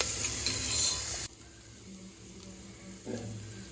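Onions fry in a pan with a little salt, giving a bright steady sizzle that suddenly drops to a faint crackle, with a soft scraping stir near the end.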